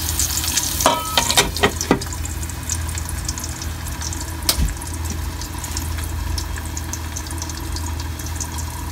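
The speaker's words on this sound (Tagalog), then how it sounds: "Asparagus po yan. Fried asparagus." Asparagus fries in a pan at breakfast, giving a steady sizzle throughout with a few sharp clatters and knocks early on.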